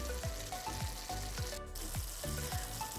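A cheese mixture of mountain cheese with nutmeg and pepper sizzling in a pan on a grill, a steady close frying hiss with regular scraping stirs, no talking.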